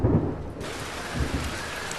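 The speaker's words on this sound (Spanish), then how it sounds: "este atardecer es la lluvia de verano de Pekín la que realmente está marcando el ritmo" Summer rain falls at dusk over Beijing's Olympic village, a steady downpour hissing on surfaces while a low rumble of thunder rolls through the opening moments.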